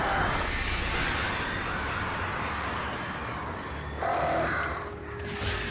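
Crows swooping down to attack from above in the video game Alan Wake, with harsh, repeated caws layered over a dense, rumbling game soundscape.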